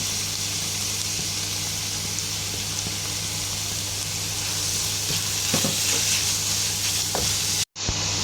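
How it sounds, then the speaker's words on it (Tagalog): Minced chicken sizzles and crackles steadily in a hot pan with butter and onion, with occasional stirring scrapes and a brief cut-out near the end. "So ilalagay ko na guys yung ating minced chicken."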